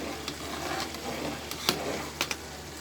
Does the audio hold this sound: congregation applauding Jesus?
no